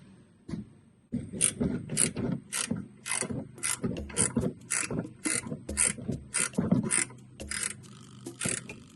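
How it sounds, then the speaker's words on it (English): A 15mm ratcheting wrench loosens the strut bolts on a 2008 GMC Sierra during upper control arm replacement, giving a steady run of close, rapid ratchet clicks in short repeated strokes. "So I'm using a 15mm wrench to remove these."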